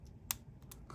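Faint, sharp clicks from a pin being set while picking an American 1100 padlock, a few isolated ticks spaced across a quiet moment, close up.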